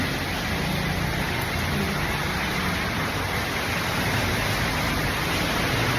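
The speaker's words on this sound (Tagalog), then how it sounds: "Lakas ng ulan." Heavy rain pours steadily, a dense, constant hiss with no pauses, loud and close throughout.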